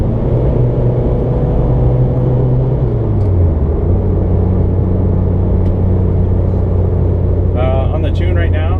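A tuned 2005 Mitsubishi Evo making 456 horsepower to the wheels on pump fuel idles at a stop after slowing down. A loud, steady low engine rumble fills the cabin, and its pitch settles lower partway through.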